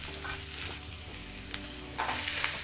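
Ghee for a tempering sizzles quietly in a pan, a soft continuous frying hiss broken by a couple of sharp clinks or crackles, close but faint, with no one talking.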